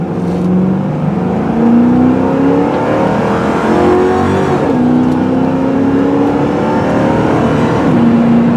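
A 2009 Crown Victoria P71 running a 91-octane tune from Moe's Speed Shop drives hard, its engine revving up through several rising pulls and shifts, loud and close throughout with no talking.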